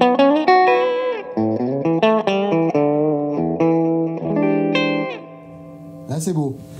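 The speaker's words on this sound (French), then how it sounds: "Ouais, non, si on met la réverb là-dessus." An electric guitar run through effects pedals with reverb plays a bright sequence of picked notes and chords that ring into a washy tail, loud and close, ending in a swirling effected swell.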